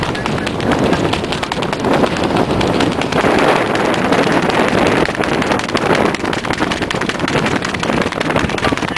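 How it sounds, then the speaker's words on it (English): Strong wind buffets a sailing yacht making about 6 knots, a constant loud roar and rumble of gusts across the microphone with water rushing beneath, no voices. "Wind is after coming up now again, so we're making a bit of headway."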